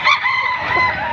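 A rooster crows once, loud and close, at a chicken market in Padre Garcia, Batangas, a single drawn-out call.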